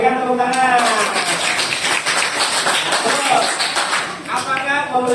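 Students in a classroom clap together in a brief burst of quick rhythmic claps, with voices talking over and around it.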